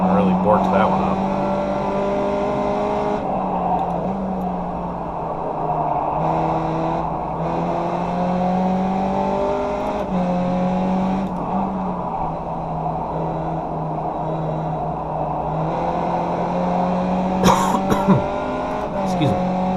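A race car in the iRacing simulator at Circuit Park Zandvoort drives a lap. A loud, continuous engine whine climbs and drops through the gears, with brief tire squeal near the end.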